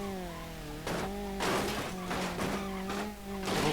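A loud car engine with a broken exhaust revs and drones with a harsh, rough tone, rising in bursts alongside brief noisy screeches, from the video game BeamNG.drive, an Ibishu Pessima 2.0 LX.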